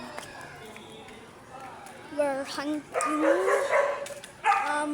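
A dog in a video game barking and yipping in a few short bursts, fairly near, over a quiet game background.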